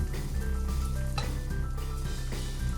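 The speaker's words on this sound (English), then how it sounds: "Throw a little bit of oil in a pan. Saute those for about 10 or 15 minutes until they wilt" Thinly sliced onions sauté in oil in a pan with a steady, even sizzle, close and continuous, while a faint tonal hum sits underneath and nobody speaks.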